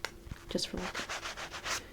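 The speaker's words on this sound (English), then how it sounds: "And then we also have this sander," A drywall sander of unknown grit is rubbed close up as an ASMR trigger, giving a steady run of rhythmic scratchy strokes, about eight passes in two seconds, with a brief spoken phrase mixed in.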